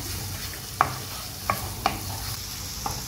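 Roasted eggplant being stirred in a pan, a low steady sizzle broken by a few sharp scraping clicks of the spoon against the pan at irregular intervals.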